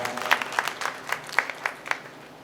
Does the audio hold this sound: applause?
yes